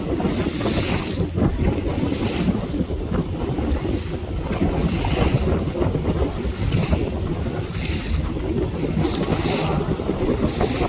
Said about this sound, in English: You like the boat ride?